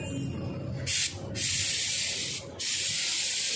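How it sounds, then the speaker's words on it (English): Spray nozzle hissing white liquid onto a Royal Enfield Meteor motorcycle, steady loud bursts with two brief pauses, close by. "Now he's just getting it sprayed everywhere."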